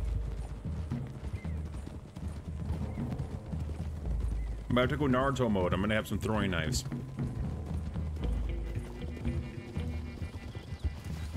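Hooves of a horse clip-clop along a road in Red Dead Redemption 2, a steady trot beneath game music and a short whinny, with someone talking over much of it.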